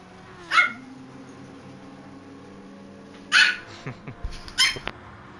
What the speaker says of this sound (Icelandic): Ég er með brjálagan hvolp hérna.